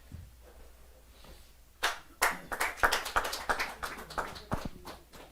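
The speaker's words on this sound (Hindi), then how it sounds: "जरा जोरदार ताली के साथ इनका अभिनंदन करें, स्वागत करें" Audience at a Hindi poetry open-mic gathering breaking into clapping after a quiet start, a run of fairly close, uneven claps that stays moderate in loudness and thins out near the end.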